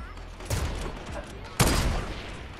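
Gunfire in Fortnite, two sharp bursts about a second apart, the second louder, each trailing into a noisy decay, with no talk.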